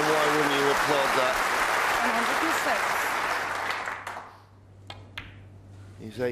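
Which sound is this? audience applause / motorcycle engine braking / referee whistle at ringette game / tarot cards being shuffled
audience applause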